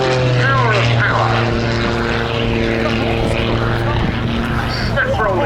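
A Pitts S-2S aerobatic biplane flies a display at Cosford Air Show, its propeller engine droning loud and steady with shifting pitch, under a commentator's running narration.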